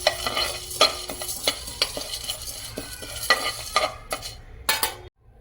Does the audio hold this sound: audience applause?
no